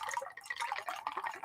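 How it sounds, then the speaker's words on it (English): A drink trickles out of a container's small opening, a faint, continuous gurgling pour with small drip-like bubbles throughout, heard alone and close. "the sound you hear is pouring"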